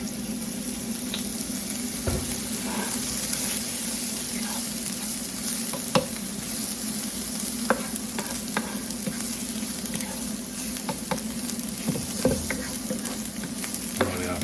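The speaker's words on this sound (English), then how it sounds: "Just going to add a touch of oil to help this cook." Oil sizzling steadily in a pan while vegetables cook for a vegan mushroom carbonara, a constant close crackle broken by occasional sharp pops and light utensil clicks, with no talk.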